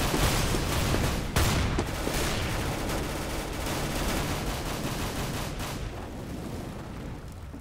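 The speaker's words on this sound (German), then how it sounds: "Wird von der Shotgun angeschossen." Dense, continuous gunfire in Counter-Strike: Global Offensive, with a shotgun among the shots: a steady wall of overlapping blasts and crackle at fairly even loudness, with a sharper crack near the start and no voices.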